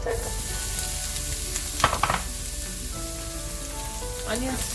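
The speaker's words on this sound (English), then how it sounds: "We're going to saute our onions down really well" Onions sautéing in an Instant Pot with whole spices, a close, constant sizzle with a burst of stirring clatter midway, steady and fairly loud.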